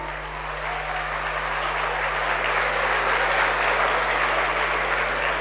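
A student event audience breaks into sustained applause, dense clapping that swells slightly and holds steady throughout, with a low electrical hum underneath.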